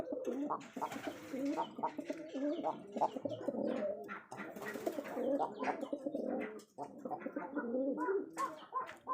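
Rajshahi Giribaj pigeons coo repeatedly and close up, soft throaty rolling calls overlapping in a continuous busy chorus with no speech.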